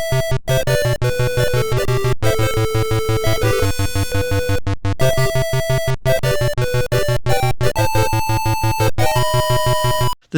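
Power Drift racing game music played through Tandy sound hardware, a loud, steady chiptune of square-wave melody over pulsing bass notes, running continuously with brief gaps between phrases.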